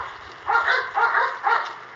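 An American pit bull terrier gives three or four rough, gruff bursts of barking in a steady rhythm, loud and close, with no talk over them.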